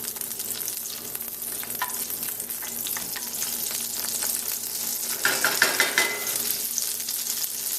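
Potatoes frying in foaming butter and oil in a skillet, a close, continuous sizzle with spatula scrapes and stirring, plus a brief run of metallic clinks near the end, no speech.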